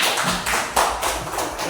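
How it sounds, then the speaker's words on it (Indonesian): Classroom applause for a student group: a steady patter of many hands clapping together, dense and fairly loud, lasting the whole moment without voices. "Tepuk tangan untuk kelompok 2."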